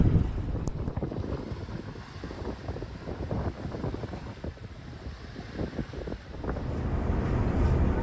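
A ferry's engine rumbles low and steady during a sea crossing in East Indonesia, mixed with wind buffeting and water rush, with no voices.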